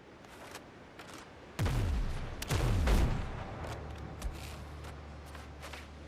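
Musket shots fired at ships in the pirate game Windrose: two booming blasts with falling rumbles, followed by lighter distant cracks and a low lingering tail, with no talk over them.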